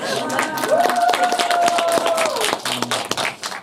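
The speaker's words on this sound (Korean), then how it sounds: "박수를 한번 쳐주시면" An audience at a film screening Q&A claps in a short, lively burst, scattered hands close by, with a sustained tone and some voices mixed in before it tapers off.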